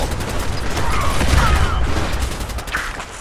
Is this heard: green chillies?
no